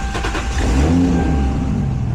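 A Toyota Supra engine with a timing issue running close by, a low steady rumble that swells briefly as it revs, loud and continuous.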